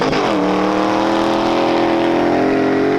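An off-road car with a professional driver powering across desert dunes, its engine holding a loud, steady drone after a brief rise at the start, close and continuous with no talking.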